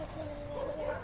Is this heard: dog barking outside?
yes